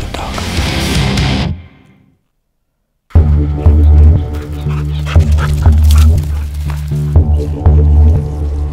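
A hunting dog tracking a wounded gemsbok in African brush barks and yips repeatedly, loud and close. A brief silence cuts in before the excited yelps and whimpers resume in an irregular rhythm.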